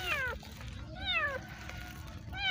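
A kitten gives three rising-and-falling meows, close and clear, spaced about a second apart over a quiet rustling background.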